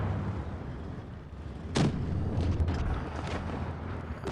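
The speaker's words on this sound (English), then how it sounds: "SU-85 took a shot there" Single heavy cannon blast from an SU-85 tank destroyer in World of Tanks Blitz, a sharp boom rising out of a constant low engine rumble and fading into the ongoing drone.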